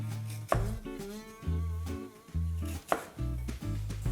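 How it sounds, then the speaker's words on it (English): Knife slicing lotus root on a cutting board, a run of crisp, close chops in an uneven rhythm with short pauses between bursts. "I'm going to cut slices of reんこん"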